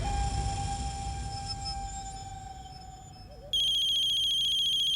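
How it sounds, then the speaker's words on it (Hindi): Phone ringing with an incoming call from an unknown number, a loud electronic ringtone of steady high tones cutting in abruptly over quiet room background and a faint earlier tone. "अननोन नंबर से फोन आ रहा है मैडम।"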